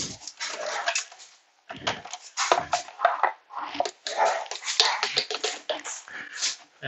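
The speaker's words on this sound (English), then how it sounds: "And my dogs are all wrestling." Several pet dogs wrestle and play indoors, giving close, busy bursts of growls, snorts and yips in uneven clusters with short pauses between.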